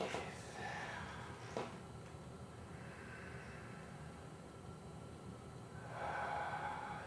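Slow, deep breaths are drawn in and let out during a wrist stretch for carpal tunnel relief, with a sharp inhale at the start, a soft sniff, and a long exhale toward the end, close and quiet.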